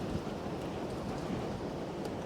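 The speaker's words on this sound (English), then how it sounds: "I can hardly stand up, it's so windy." Strong wind blows hard around a beehive being opened outdoors after winter, a dense, continuous roaring rush that buffets the microphone throughout, with no talk.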